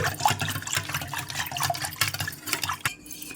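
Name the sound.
pouring water into masala buttermilk and stirring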